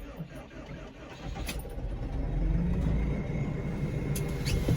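A Deutz Fahr 5110G tractor diesel engine cold-starts in freezing weather with no block heater. After a brief crank it catches and settles into a loud, steady low idle rumble close by.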